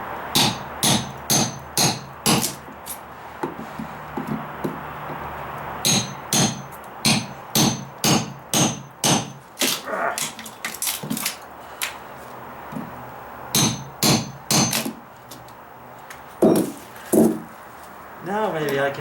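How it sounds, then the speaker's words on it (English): A nail puller is driven into rotted wood on a deck, making repeated sharp knocking strikes in quick bursts with short pauses, close and loud, with a voice talking between hits. "I can dig out a little bit of the wood with my nail puller"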